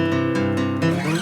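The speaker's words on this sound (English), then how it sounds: "These are inverted triads." Inverted triads played on guitar in a short, dense burst of chord tones ringing together, near and fairly loud.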